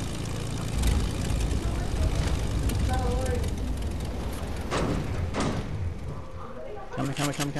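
A video game airplane drones with a steady propeller and engine roar throughout, while a player talks excitedly over it.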